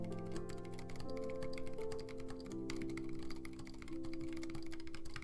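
Typing clicks rapidly on a split ortholinear Zen keyboard, a thin-profile ergonomic build fitted with high-profile keycaps. Quick, even keystrokes run continuously, and steady sustained background music sits under them.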